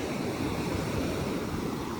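Sea waves wash onto the shore at Mamaia on the Romanian Black Sea coast during high surf, a continuous broad roar mixed with wind noise and no voices.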